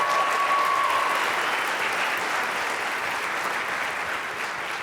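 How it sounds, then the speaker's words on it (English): An audience at a high school winter concert gives a round of applause for the woodwind section, a dense, even clapping that holds steady and slowly tapers. "Another round of applause for our woodwind section here."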